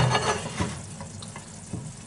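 Marinated beef sizzles steadily in a pan while a wooden utensil scrapes and stirs with a few soft clinks, close and fairly quiet.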